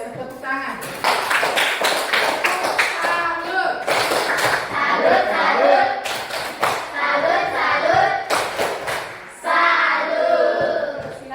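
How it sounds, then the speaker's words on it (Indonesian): Classroom applause after a school group discussion: a dense burst of clapping from a room of students, loud and close, with voices and chatter mixed in throughout. "Luar biasa, tepuk tangan."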